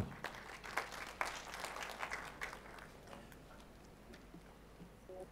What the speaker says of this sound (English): Please, a round of applause for Ms.